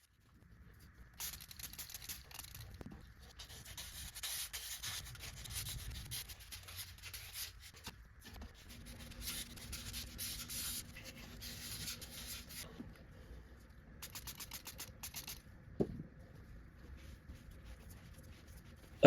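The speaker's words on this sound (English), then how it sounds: "Gently sand the objects using vertical and horizontal strokes." A primed object is sanded gently by hand with vertical and horizontal strokes, producing soft, close, rhythmic scratchy rubbing in long runs separated by quiet pauses, with a few light taps and handling sounds.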